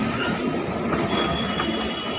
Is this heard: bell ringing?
no